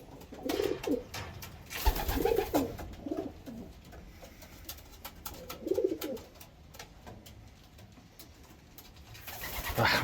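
A young pigeon coos in a few soft, low throaty bursts spaced apart, close by, with scattered faint ticks and rustles between the calls.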